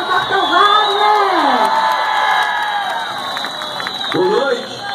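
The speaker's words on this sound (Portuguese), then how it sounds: "Salva de palmas para o nosso deputado Capitão Wagner" A crowd at the José Avelino market in Fortaleza cheers for deputy Capitão Wagner at a campaign gathering. Loud shouts and whoops rise and fall close by, with a fresh burst of voices near the end.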